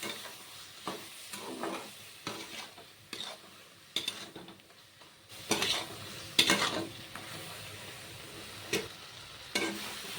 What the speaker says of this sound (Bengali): মশলাগুলো দিয়েও আরও দুই তিন মিনিটের মতো ভেজে নিতে হবে